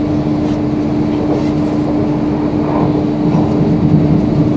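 A passenger train arriving at London King's Cross gives a loud, close, continuous rumble and rattle from inside the carriage.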